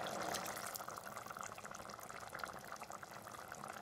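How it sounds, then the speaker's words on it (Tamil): Chickpea kurma curry with coconut milk and garam masala boils in a pot, giving a close, continuous bubbling and burbling simmer with no talking. "இப்போ நல்லா கொதிக்குது."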